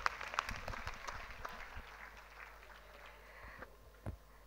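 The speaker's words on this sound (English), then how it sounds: "So big round of applause for them." Audience applause for student musicians at a school performance day, fairly faint and distant, with scattered claps fading over a few seconds and a couple of louder claps near the end.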